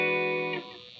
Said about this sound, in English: using my MXR carbon copy analog delay pedal